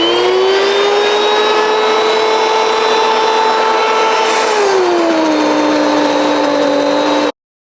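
A grain mill grinding hard white wheat for bread gives a loud, steady high-pitched motor whine that steps down in pitch partway through and then cuts off abruptly.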